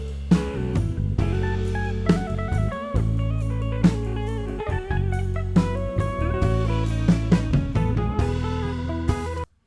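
Drums and bass summed together through a mix bus, a full loud groove with steady kick and snare hits over a deep, moving bassline, playing continuously for nearly ten seconds without any voice.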